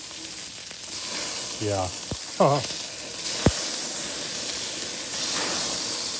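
Onion burgers sizzle loudly on a Weber Q 1200 grill just after flipping, with a steady hiss, a couple of sharp spatula clacks, and someone speaking briefly over it.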